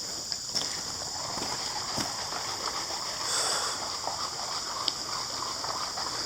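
Creek water flows steadily over gravel in a continuous soft rush, with a few faint clicks and knocks scattered through the outdoor stream sound.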